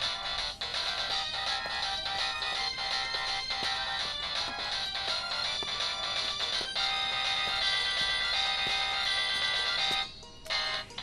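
A phone rings with a continuous bright electronic melody that repeats steadily, cutting off briefly near the end before resuming.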